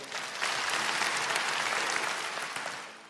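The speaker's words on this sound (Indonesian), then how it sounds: "Kasih tepuk tangan untuk mereka juga." A church congregation applauds during a Sunday worship service. Dense, steady applause from a large crowd fills the whole three seconds, fading slightly at the end.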